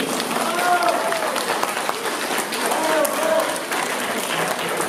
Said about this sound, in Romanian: aplauze pentru cei mai frumoși vineri!